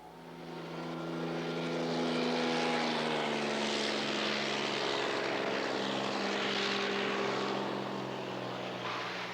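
Float plane propeller engine at Brooks Camp in Katmai, Alaska, a steady droning hum with clear tonal harmonics, swelling and holding loud before easing slightly at the end.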